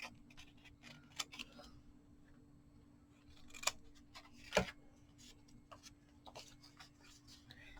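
Scissors trimming a small piece for a clear collage box, heard as a few quiet, scattered snips and clicks spread across a faint room background with no talking.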